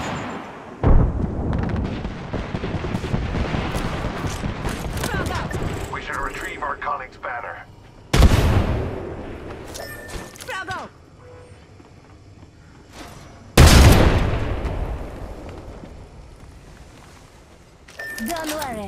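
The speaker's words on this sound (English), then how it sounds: "Getting shot at." Apex Legends gameplay with gunfire and grenade explosions, three loud sudden blasts spread through the clip, each trailing into rattling shots and debris, with game voice lines over them.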